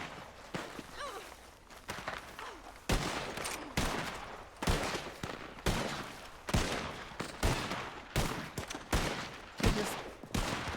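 Repeated gunfire in a Red Dead Redemption 2 roleplay shootout, sharp shots cracking out in irregular bursts every second or so across the whole stretch, fairly close and loud, with no talking.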